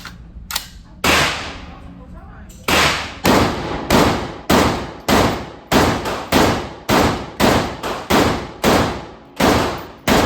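AR-15 rifle fired outdoors, about a dozen sharp, loud, close shots in a fairly steady rhythm roughly every half second, each with a short decaying tail, preceded by a couple of scattered earlier reports.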